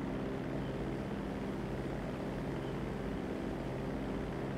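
A propeller airplane drones steadily as it comes in to land in GTA, a continuous loud engine hum with no break and no voices.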